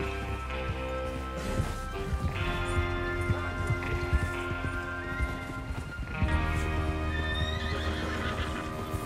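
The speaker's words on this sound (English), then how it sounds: "Get your horses ready." Horses in the Red Dead Redemption 2 game neighing and whinnying over steady clip-clopping hooves, several loud whinnies standing out above the continuous trotting for several seconds.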